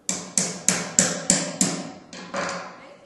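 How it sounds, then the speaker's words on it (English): Sharp hammer blows drive a wheel onto the axle of a small solar-powered model car: five evenly spaced knocks, then two softer ones, close and alone with no talk. "get it started, and then hammer it on."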